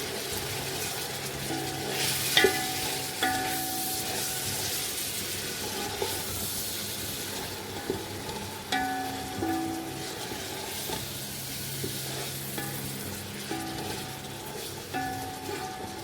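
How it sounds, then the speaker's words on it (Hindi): Chicken stir-fries in a pan with cabbage, carrot and capsicum, a steady sizzle broken by repeated clanking stirs and scrapes of a utensil, no talking. "अब इन सबको 2-1 मिनट अच्छी तरह फ्राई करके दिखाती हूँ।"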